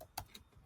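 Three quiet, separate clicks come from typing on a computer keyboard, spaced irregularly and close to the microphone.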